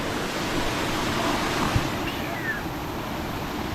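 River water rushing hard past a small bridge near reservoirs on a Thai farm, a continuous loud broadband roar with no pauses and no voices.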